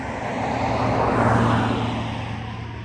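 A truck passes by on a road, its rumble swelling to a peak midway and then slowly fading as it moves off.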